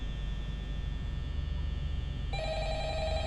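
A telephone rings in the horror game Five Nights at Freddy's, a steady electronic ring that starts partway through and continues over a constant low mechanical hum.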